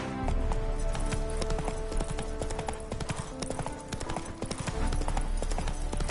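Roach, Geralt's horse in The Witcher 3, gallops in a steady, loud clip-clop of hooves, close and continuous, with layered game music and ambience beneath and a faint snort.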